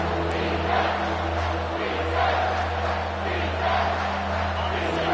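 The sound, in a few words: football stadium crowd cheering for the defense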